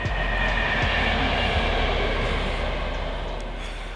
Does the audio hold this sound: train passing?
yes